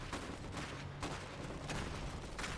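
Gunfire in the strategy game Iron Harvest, a series of sharp separated shots cracking out in irregular bursts over a low battle rumble, moderately loud and without speech.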